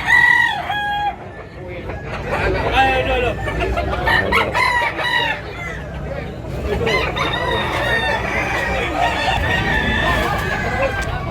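A crowded market in Tabunok, Cebu, packed with many roosters and chickens, crowing loudly and clucking over one another in a dense, continuous chorus, with faint background chatter.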